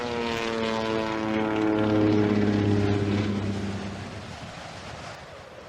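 An old Latécoère 25 propeller airplane drones past at altitude, its steady engine hum rising, then fading into distant wind-like noise as it moves away.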